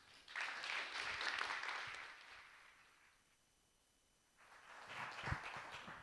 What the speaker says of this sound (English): Can we get a big round of applause for Mr. Muyatwa Sitali?